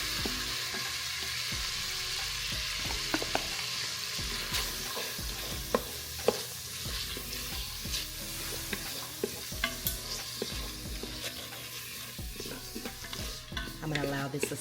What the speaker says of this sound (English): I'm gonna allow this to saute.